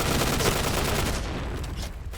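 An XM7 gun fires in the Point Blank (PB) shooter game in a loud, continuous burst of rapid shots that runs without pause for about two seconds.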